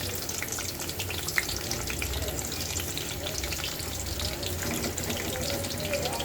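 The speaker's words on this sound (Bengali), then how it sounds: "এখন পটল আর কাঁকরোলগুলো ভেজে নেব।" Pointed gourd and spiny gourd frying in a pan, a dense, constant sizzle with faint crackles and a watery hiss, steady from start to finish.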